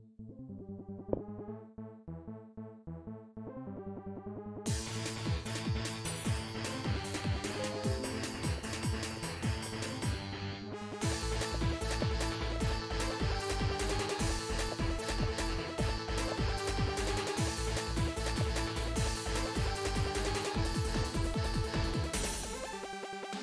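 An electronic music track begins sparse, then kicks into a full, dense beat with synths and driving bass that builds further midway, continuous and loud.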